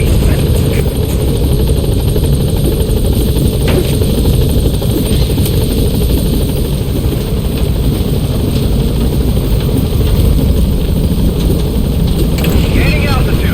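Pequod helicopter lifting off in Metal Gear Solid V: The Phantom Pain, its rotors roaring loud and steady throughout while a radio voice speaks faintly beneath.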